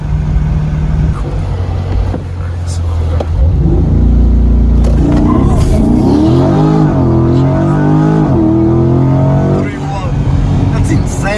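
A 2021 C8 Corvette runs at very high speed, close to 190 mph, its engine a loud continuous roar inside the cabin while people talk over it.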